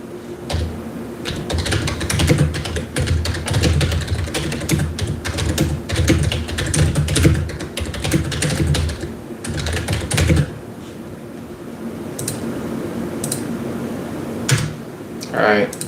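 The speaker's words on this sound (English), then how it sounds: "Alright, sorry about the loud noise, keyboard." Rapid clattering keystrokes on a computer keyboard, loud and close, in dense bursts that pause near the end with a few scattered taps.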